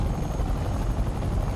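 A helicopter in a Spider-Man video game drones steadily and loudly with a rapid rotor beat, close and alone.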